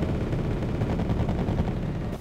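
A MiG-31 air-to-air missile launching in the Wargame video game: a dense, loud, continuous rumbling roar that holds steady for about two seconds and then cuts off abruptly.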